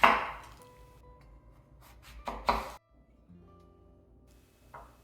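A few knife strokes hit a cutting board as peeled apples are sliced thinly, including a quick cluster of chops near the middle, amid quiet kitchen clatter.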